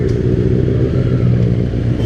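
A Benelli 600i motorcycle with a modified Ixil exhaust revs loud and close, a deep, throbbing, continuous engine roar that holds steady with no speech over it.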